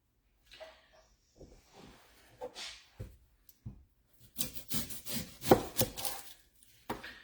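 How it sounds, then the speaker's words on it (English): A knife slicing an onion into rings on a board: soft, irregular cuts and scrapes that build into a quicker series of crisp chops toward the end, fairly close and quiet with no talking. "Just traditional slices of onion, okay? Traditional little rings."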